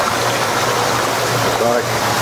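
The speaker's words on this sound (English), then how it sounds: "regulate the forward motion of the product as well as the degree of turbulence in the water" Water churns steadily inside a Heinzen turbulent-flow leafy greens washer, a continuous loud rushing with a low machine hum beneath and a faint voice speaking over it.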